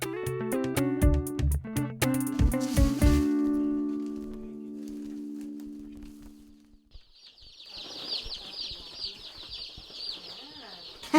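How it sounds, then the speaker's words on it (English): Chicks being brought into a chicken shed, with flapping wings and bird noises under loud harmonic music in the first seconds, then a sustained high-pitched chirping chorus filling the second half. "Time to bring in the chicks."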